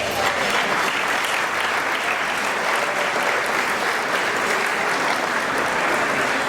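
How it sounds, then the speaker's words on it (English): Loud, sustained applause from a crowd at an annual dinner award presentation, dense and even clapping that holds steady from start to finish. "Please let's give them a round of applause."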